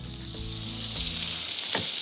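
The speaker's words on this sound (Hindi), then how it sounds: "तड़के के लिए तेल गरम कर ले, उसमें राई डाले और तड़कने दे" Mustard seeds crackle and sizzle in hot oil during tempering for an Indian dish in a TV cooking competition kitchen, a steady close frying hiss with a few sharper pops.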